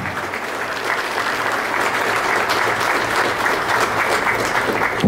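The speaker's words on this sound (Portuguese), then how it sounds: "As palmas aí pela conquista, pode aplaudir mais" An audience at a São Paulo state government event on airport investments gives dense, steady applause, a loud, even roar of many hands clapping that holds throughout without a break.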